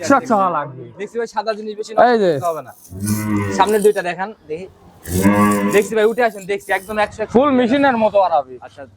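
Several long, deep moos from cattle close by, one after another with short pauses, loud and drawn out.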